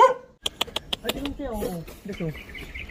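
Several dogs barking in quick, sharp bursts near a mangrove and fruit-tree area in Indonesia, the barks clustered early and then giving way to voices talking over them.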